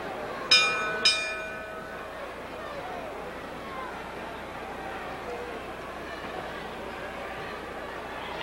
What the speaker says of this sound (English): the bell sounds for the start of the second fall